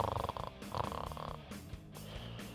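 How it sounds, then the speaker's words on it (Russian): A pet snoring nearby, soft rhythmic purring rattles rising and falling over a couple of breaths, quiet and close. "Это Бориска храпит"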